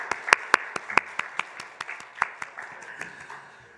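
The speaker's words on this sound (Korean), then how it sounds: "다시 한번 감사의 박수 드리도록 하겠습니다." A church congregation claps in thanks during a Sunday service, a scattered round of hand claps that starts brisk and tapers off over a few seconds.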